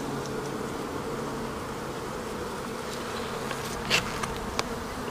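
Honey bees buzz steadily inside an open beehive frame of capped honey, a dense continuous drone with a few louder individual bees passing close near the end.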